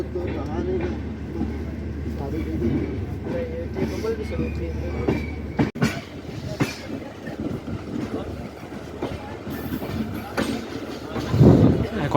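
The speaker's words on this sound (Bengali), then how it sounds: "আমাদের ট্রেন পৌঁছে গেছে যোধপুর জাংশন স্টেশনে।" The Howrah Jodhpur Express (12307) rumbles steadily into Jodhpur Junction station with low mechanical noise and rail clatter, a brief sharp thud partway through, and voices murmuring in the background.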